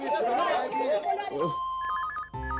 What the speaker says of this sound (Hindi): तुम्हें फोन की आवाज सुनाई दे रही है?